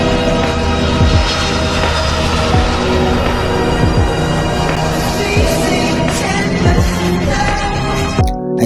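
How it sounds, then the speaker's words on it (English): A stock airplane sound effect from the CapCut audio library: a loud, steady aircraft engine drone with sweeping tonal passes repeating every second or so, then an abrupt cutoff at the end. "I went back to audio and searched for plane"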